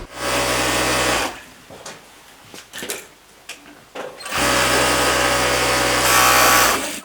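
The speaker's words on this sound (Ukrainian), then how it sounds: "Між уроками працюємо за швейними машинами. Шиємо термобілизну." Electric sewing machines run in loud sustained bursts while teachers stitch thermal underwear for soldiers, with a steady motor whir that stops for a few seconds of clicks and handling noises before resuming.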